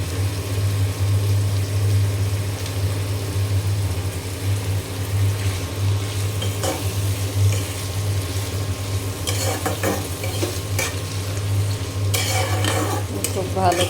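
Steady stirring in a frying pan with potato and pointed gourd pieces, turmeric and salt, continuous sizzle under scraping spoon strokes that grow busier toward the end, close and fairly loud.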